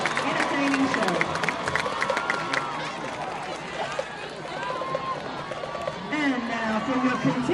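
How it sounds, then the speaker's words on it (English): A stadium crowd at a Mandeville vs Ponchatoula high school football game applauds and cheers for the Mandeville High School marching band and dance team at halftime, making a steady wash of noise while a public-address announcer talks over it. "Let's give one more round of applause for the Mandeville High School marching band and dance team"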